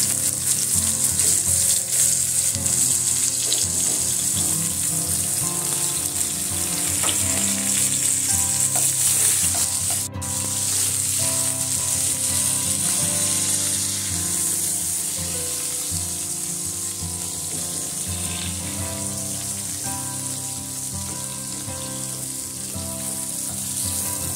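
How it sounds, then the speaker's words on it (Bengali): Potatoes and chopped eggplant fry in a pan for a kajari fish curry, giving a loud, continuous, close sizzle with occasional soft stirring sounds throughout. "আলু বেগুন মোটামুটি ভাজা হয়ে এসছে"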